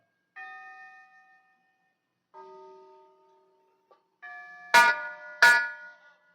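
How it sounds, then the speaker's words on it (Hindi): Bell rung at a gate in a Bhojpuri nautanki stage play: several struck tones ring out with clear decaying harmonics, then two sharp louder clangs near the end, with silence between strokes. "देखिए गेट पर कोई घंटा बजा रहा है"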